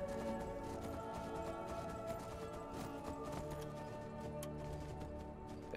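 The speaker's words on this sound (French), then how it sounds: "Le cheval cataclope, cataclope, cataclope." Steady clip-clop of horse hooves in a regular trotting rhythm in the video game Skyrim, mixed into a busy backdrop of game music and ambience, with no voices.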